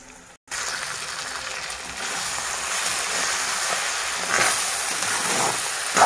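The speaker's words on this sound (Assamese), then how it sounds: "ভাজোতে তেলত ফুটি যাব।" Fish roe fries in hot oil, giving a steady, broad sizzling hiss that swells slightly toward the end, following a brief moment of silence near the start.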